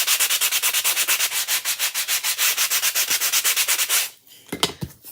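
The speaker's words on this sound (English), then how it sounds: "So I'm just going to lightly sand it with a sanding block here." A sanding block is rubbed lightly over wood in quick, steady back-and-forth strokes, a close rhythmic scratchy rasp that repeats about eight times a second before stopping, followed by a few brief handling knocks.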